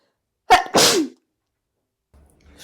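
A single loud, close sneeze bursts out sharply and stops, followed by near silence with only faint low rustling at the end.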